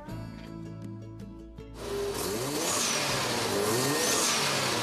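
Hot rod cars rev at the Wegfest car show at Ward Center, a loud, rough engine roar that swells and rises in pitch after a brief musical lead-in, close and continuous.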